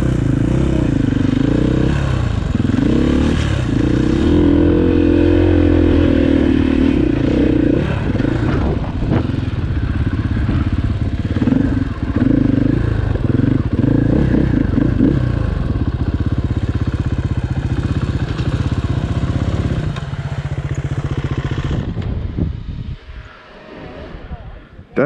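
An enduro motorcycle rides through an open-pit mine in second gear at low throttle. Its engine drones loud and close without a break, rising and falling slightly, then trails off near the end.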